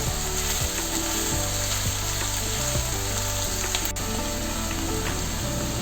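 Chicken fries in a pan with a loud, dense, continuous sizzle and crackle that holds steady the whole time.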